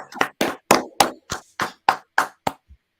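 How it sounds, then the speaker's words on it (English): Nine sharp claps ring out in a steady, evenly spaced rhythm, close and clear over a quiet background, from a small audience applauding a football podcast review of Plymouth Argyle versus Huddersfield. "Lovely claps."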